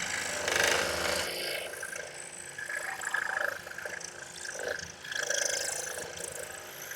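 Scroll saw cutting a jigsaw-puzzle-key shape into a piece of scrap wood, a steady close rasping buzz that swells and eases as the blade works through the cut, with no talking.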